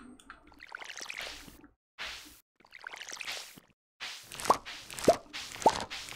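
Watering crops in Stardew Valley: soft splashing swishes arrive in separate bursts with short silent gaps between them, and small plopping drips follow near the end.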